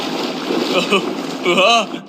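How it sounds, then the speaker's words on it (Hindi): Water sloshing and splashing inside a large water-filled tube as it is shaken, a few uneven surges of splashing close by, with speech heard in between. "अब ये पानी से भर गया है तो मैक इस ट्यूब को शेक करेगा"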